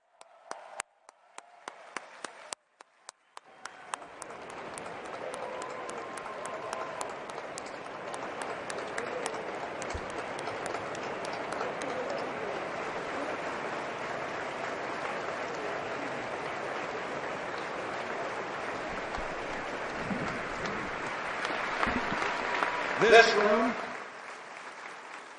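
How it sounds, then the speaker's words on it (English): Sustained audience applause fills a large dinner hall at a Human Rights Campaign event in Washington, rising after a few scattered claps and swelling with cheers near the end. "I'd like us all to give them a big round of applause"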